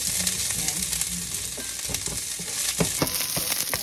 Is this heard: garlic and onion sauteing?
yes